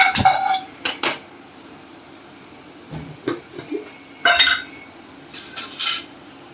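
A wide, shallow metal pan is set down on a gas stove, giving a few separate close clanks and clinks with quiet gaps between them and no talking.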